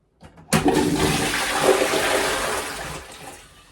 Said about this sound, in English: Let's give it a flush, see what happens.